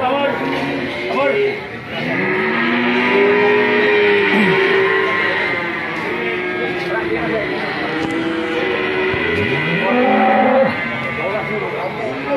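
Cattle low with drawn-out moos at the Amber Ketawang cattle market, amid busy crowd chatter and voices talking nearby throughout.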